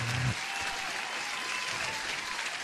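Canned applause played on a live day-trading stream to welcome a guest: a steady wash of clapping with a brief voice at the very start, cut off abruptly under three seconds.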